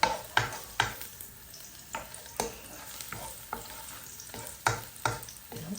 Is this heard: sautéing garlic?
yes